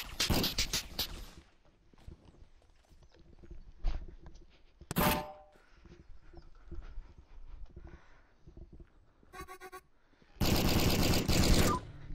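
Gunfire in a VR battle royale game: loud bursts of automatic fire at the start, a single heavy shot midway, a rapid rattling volley, then a long dense roar of sustained shooting at the end, with quieter thuds and clanks between.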